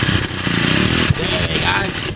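A Honda four-stroke mower engine starts and runs, giving a loud steady chugging rumble with a quick rhythmic beat close by. Brief irregular scrapes occur partway through.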